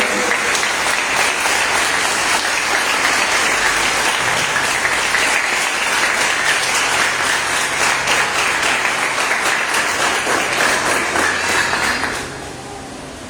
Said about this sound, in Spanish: ¿Cuántos le dan un fuerte aplauso?